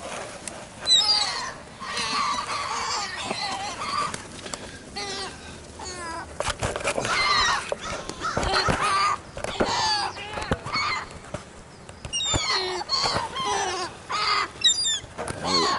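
Gulls crowding in to be fed close up, their loud honking and squawking calls overlapping in irregular bursts, some very near, with brief quiet gaps between flurries.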